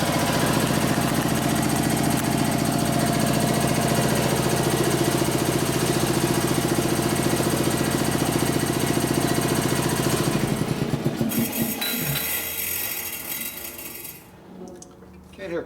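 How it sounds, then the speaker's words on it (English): Air compressor running steadily in a motorcycle workshop during a Harley shovelhead big bore build, a loud dense mechanical drone that holds for about ten seconds, then shifts and winds down toward the end. "Can't hear crap with the air compressor going."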